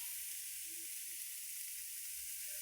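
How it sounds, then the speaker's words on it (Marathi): Onion dry-roasting in a pan without oil, the first step of egg bhurji, gives a soft, steady sizzling hiss that runs quietly and evenly throughout with no voices. "असा कांदा भाजायचा आधी, मग तेल टाकायचं."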